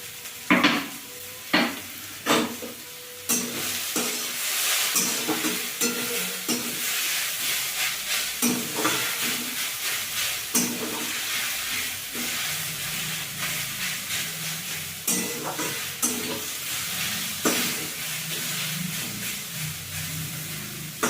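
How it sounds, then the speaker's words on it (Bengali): Pakora filling with chopped tomato stirred and fried in a pan: steady sizzling hiss with repeated scraping and clinking stirs of a spatula against the pan, close and alone. "দিয়ে নেড়ে চেড়ে ভালো করে পুরটা তৈরি করে নেবো।"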